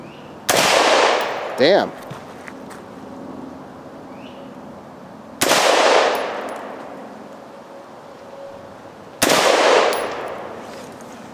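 Colt AR-15 rifle fired at bowling pins outdoors: three loud, sharp cracks spaced a few seconds apart, each with a ringing impact and a decaying echo, and a brief exclamation from a person in between.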